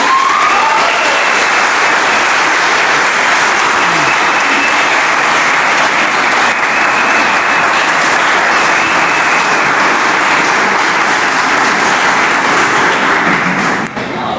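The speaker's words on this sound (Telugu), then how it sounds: "చాలా గట్టిగా కొట్టారు చప్పట్లు" Loud, sustained applause from a large audience after a Telugu speech on Dasarathi's poetry, dense and even clapping filling the whole stretch before fading at the very end.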